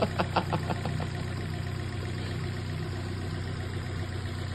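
A BMW F30 engine idles in a workshop with a steady mid-low drone, a knock on the second cylinder, and a few sharp ticking taps at the start.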